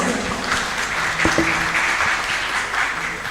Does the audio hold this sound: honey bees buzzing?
no